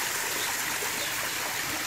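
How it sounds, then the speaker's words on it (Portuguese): Water pouring down a small man-made waterfall at the back of a backyard lot, a steady broadband rush of splashing flow, close and constant, with no voices. "fez uma cachoeira natural no fundo do lote dele."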